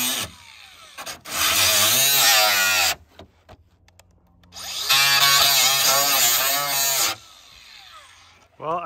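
A power grinder runs in two loud bursts with a rising and falling whine, pausing quietly in between, with people talking briefly around it.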